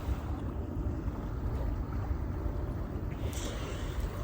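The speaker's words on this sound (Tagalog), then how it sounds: "yung pinapakinggan mo lang yung bawat alon ng dagat" Steady broadband rush of sea waves washing in continuously, with wind buffeting the microphone throughout; no voices.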